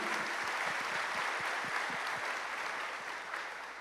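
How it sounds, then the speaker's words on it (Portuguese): A church audience applauds a pastor's wife as she stands, dense sustained clapping from many people that stays loud and even throughout. "vamos aplaudir"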